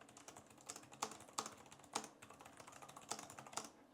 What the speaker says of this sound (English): We're gonna do a little typing test.